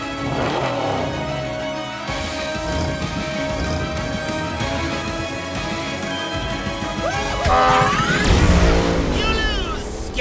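Cartoon drag race between the Joker's small van and the Batmobile, with revving engines, whooshing passes and a crash-like burst near the end, all mixed under a steady music score and character voices.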